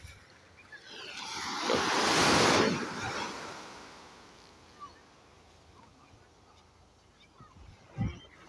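Ocean waves at Newcastle beach near a fishing spot: a broad wash of surf swells and recedes early on, then calmer water hiss with a couple of brief nearby knocks.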